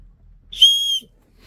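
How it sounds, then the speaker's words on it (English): An emergency whistle built into a hunting pack gives one short, shrill blast of about half a second, loud and close, with near silence on either side. "there's an emergency whistle in here"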